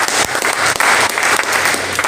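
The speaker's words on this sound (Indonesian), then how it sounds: "Berikan tepuk tangan." A church congregation at a worship service in an apartment claps loudly and close, a dense, continuous burst of applause with brief dips in intensity.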